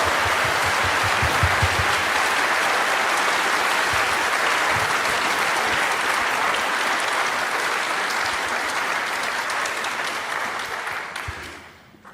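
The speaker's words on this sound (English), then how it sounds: "let's give a round of applause for" A large audience gives a sustained round of applause at a panel discussion, dense and loud throughout, fading out at the very end.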